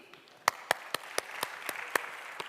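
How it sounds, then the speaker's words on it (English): Scattered applause from a conference audience on a main stage at a tech summit in Valletta, a few sharp individual claps spaced out over a soft wash of clapping, fairly distant and thin. "give us a big round of applause"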